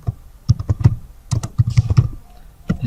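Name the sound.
typing on a computer keyboard into MS Word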